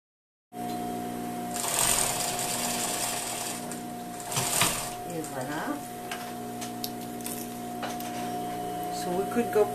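A sewing machine runs a sleeve seam from bottom to top with a steady motor hum and rapid needle chatter, close and fairly loud, with brief pauses and faint handling noises between bursts.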